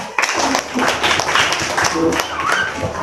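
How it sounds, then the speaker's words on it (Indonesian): Classroom students clapping for the final group, scattered uneven claps mixed with children's voices and chatter throughout. "Kasih tepuk tangan untuk kelompok terakhir."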